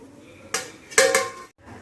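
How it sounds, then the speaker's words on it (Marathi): A metal lid clanks onto a kadhai (wok) with two bright, ringing hits close by, then everything falls quiet. "झाकण झाकून ठेवणार आहे आपण"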